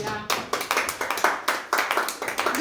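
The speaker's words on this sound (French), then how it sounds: "Est-ce que tu peux acclamer pour le Seigneur?" A church congregation in Belgium claps together in a quick, steady rhythm, with many hands striking nearly in unison and filling the room with loud, regular beats.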